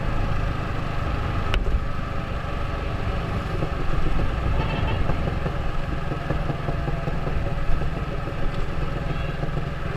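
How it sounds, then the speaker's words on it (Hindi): Yamaha R15 V3 motorcycle fitted with an Akrapovic full-system exhaust runs steadily near the microphone, a continuous engine drone with faint crackles and pops as revs drop, no talking over it. "तो ये सुनाई दे रहे होंगे आप लोग को। तो ऐसे कुछ पॉप्स जो है ऑफर करता है ये वाला एग्जॉस्ट।"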